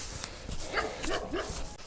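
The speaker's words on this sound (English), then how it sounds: "There's a dog in there." A dog barks a few times at close-to-middle distance on an outdoor walk, with short, sharp yips in quick succession.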